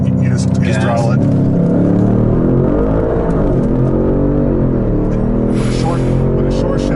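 A tuned 2016 Audi S6 with bolt-ons pulls hard at full throttle, a loud, sustained engine note climbing steadily through the revs, with voices talking over it.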